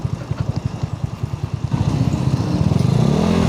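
A Raider motorcycle engine runs close by with a rapid pulsing putter, then the revs rise and the note thickens into a louder, steadier drone.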